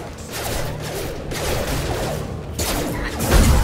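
Gunfire in the video game Mass Effect 2, a dense crackling fusillade of rapid shots in a steady barrage, moderately loud under layered combat noise.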